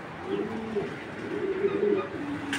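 A pair of Netherlands racing pigeons coo in soft, low repeated phrases close by, with quiet background noise and a brief rustle near the end.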